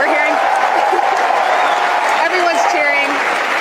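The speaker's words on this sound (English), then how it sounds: "Everyone's cheering." A crowd in SpaceX mission control cheers and applauds after a rocket first-stage landing attempt on a drone ship. The sustained roar stays underneath a talking voice throughout.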